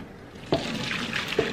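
Pasta water poured from a pot through a strainer set inside it, a sudden splashing gush that keeps running and gurgling at close range, with a couple of brighter sloshes.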